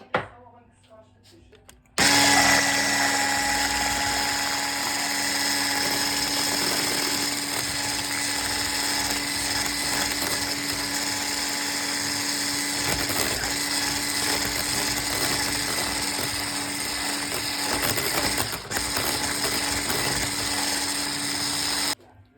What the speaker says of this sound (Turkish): mikserle çırptık